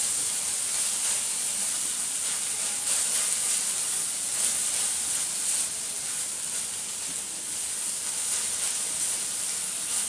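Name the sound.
vegetables cooking and stirred in a pan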